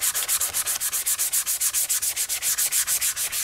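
Rhythmic back-and-forth sanding on Yamaha RZ350 fuel tank parts during restoration, a steady run of close, even rubbing strokes, about seven per second, hissy and bright, with no talking.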